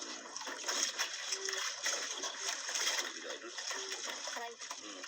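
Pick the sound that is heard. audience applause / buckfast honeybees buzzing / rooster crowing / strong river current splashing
strong river current splashing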